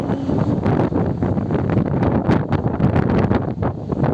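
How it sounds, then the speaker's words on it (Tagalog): Strong wind roars and buffets the microphone continuously, a dense, gusty rumble with no speech. "ang lakas ng hangin guys"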